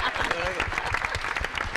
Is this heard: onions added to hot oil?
no